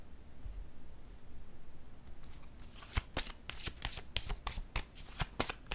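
Tarot cards are riffled and shuffled by hand, a faint rustle giving way to a quick run of crisp, snappy card flicks close to the microphone.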